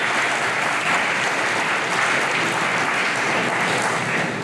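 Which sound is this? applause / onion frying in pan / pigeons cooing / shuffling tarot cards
applause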